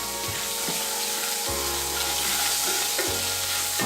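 Onion tomato paste frying in oil for an Indian curry, sizzling steadily while being stirred, with a few soft scraping strokes across the pan.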